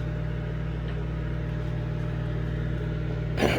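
A microwave oven runs while boiling eggs, giving a steady, low electrical hum that stays constant throughout, with a brief rustle or click right at the end and no talk.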